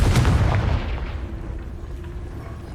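Confringo fire spell cast in Hogwarts Legacy, a loud booming blast at the start that rolls off into a fading rumble over nearly three seconds.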